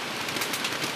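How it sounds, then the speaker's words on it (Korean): Birds call and coo in a remote mountain setting, set against a steady broadband wash like running water or wind, the calls soft and blended into the constant background. "물소리, 바람 소리, 이 새소리가 좋고"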